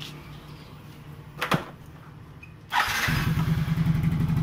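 A sluggish Yamaha Mio J scooter engine cranks and catches after a short quiet lull and a single knock, then settles into a steady, close, even idle.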